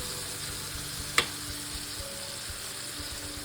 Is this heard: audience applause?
no